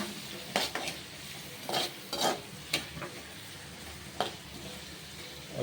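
Chicken gravy ingredients being stir-fried in oil in a village kitchen, with a faint sizzle under repeated scraping stirs of a spoon against the pan, irregular and soft, no voices.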